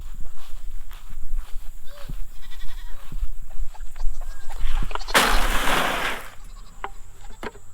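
Young chickens, newly let out of their brooder for the first time since a day old, cluck and chirp faintly outdoors, with a brief loud rush of broadband noise in the middle.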